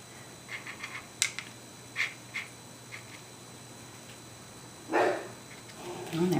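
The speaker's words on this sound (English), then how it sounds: "And there goes my dog." A dog barks several times in the background, sharp scattered yips at moderate distance, followed by a louder closer burst of barking toward the end.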